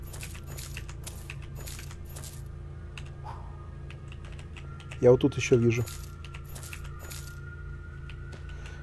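Dollar coins picked up in the Western game Weird West, a quick cluster of metallic clinks near the middle over a quiet hum, with someone talking briefly in Russian.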